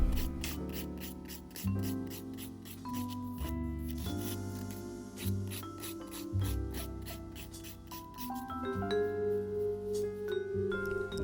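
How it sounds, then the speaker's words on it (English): Nail file shaping a gel nail, rapid close rasping strokes in a quick repetitive rhythm, with soft music playing underneath throughout. "I'm lightly just filing the shape, making it a little bit more crisp"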